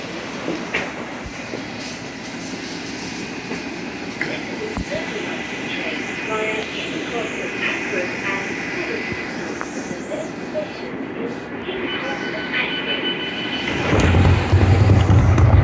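A London Underground Circle line train runs between stations, with a continuous rumbling ride, occasional clicks and clatters of the track, and a sharp swell in low roar near the end.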